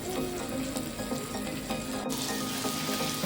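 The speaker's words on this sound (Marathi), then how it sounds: "बांगडा फ्राय" Mackerel coated in ginger-garlic paste and salt fries on a griddle in a home kitchen, giving a steady close sizzle of hot oil with no talking.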